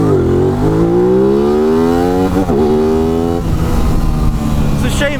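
A 2023/24 Aprilia RS 660 motorcycle launching hard in a 0 to 60 run, its engine note loud and close, rising steadily through first gear with a brief shift or stutter midway before climbing again, with a voice talking over it.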